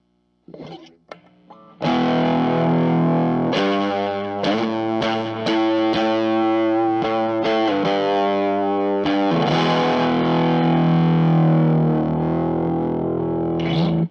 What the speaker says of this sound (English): it gets harmonic, but it gets squished, and it almost sounds like the speaker's kind of broken, like with that fuzz